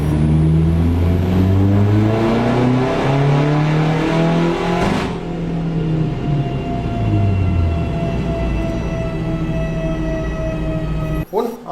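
A diesel car runs on a dyno using Socar Nano Super Diesel fuel, its engine loud and close as it revs up through rising gears, then winds down and fades at the end.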